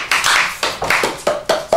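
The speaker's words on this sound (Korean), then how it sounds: "박수 한번 쳐" Children in a classroom clap hands in a quick run of about seven loud, close claps with short bursts of rhythm.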